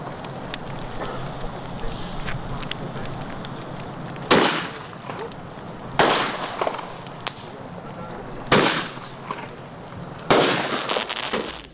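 Fireworks go off outdoors in four loud, sharp bursts spaced a couple of seconds apart, each followed by crackling, over a steady background hiss.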